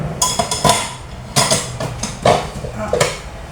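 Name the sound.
dishes clattering while loading dishwasher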